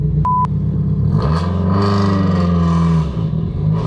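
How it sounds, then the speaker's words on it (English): Two short electronic beeps, then a 500+ bhp Subaru Impreza engine revs hard up close, its growl rising and holding loud before dropping back. "I've never heard a Subaru Impreza sound like this before."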